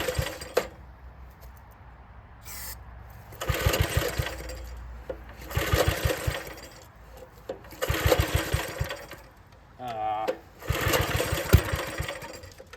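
A small single-cylinder engine in a circa-1959 David Bradley Suburban garden tractor runs on gas, surging and sputtering in repeated bursts of loud revving with brief drops between, close by.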